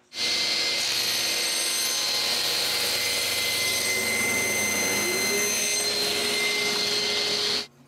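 A power tool whines loudly and steadily while cutting a wooden door frame panel, a continuous high-pitched roar that holds for several seconds and then cuts off.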